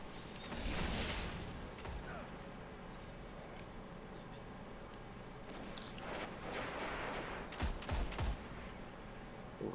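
Scout rifle gunfire in a shooter video game, a few loud shots and bursts scattered across a busy mix of game effects and movement noise.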